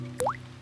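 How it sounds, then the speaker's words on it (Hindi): A single cartoon water drop falls into a bucket in a Peppa Pig episode, making a short, quiet plop with a quick upward-bending bloop. "डैडी पिग बूंदें इकट्ठा करने के लिए बाल्टी का इस्तेमाल कर रहे हैं।"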